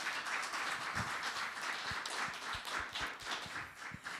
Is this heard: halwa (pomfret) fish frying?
no